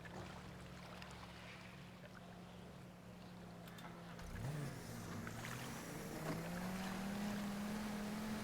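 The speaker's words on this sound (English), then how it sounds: "The reverse on these boats is just like of course the propellers aren't made for reversing" A motorboat reversing in GTA roleplay on NoPixel, a low steady engine drone that rises in pitch partway through as the throttle opens, faint and continuous with water and wind noise.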